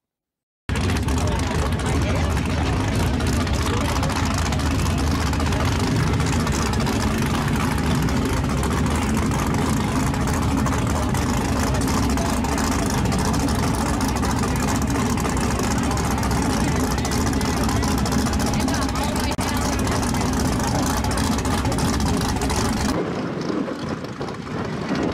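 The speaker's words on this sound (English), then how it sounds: "we have my son Dalton driving a fast Falcon" A Ford Falcon drag car's engine idles at a no-prep street racing event, producing a steady, loud, low rumble that holds unchanged for about twenty seconds before cutting off abruptly near the end.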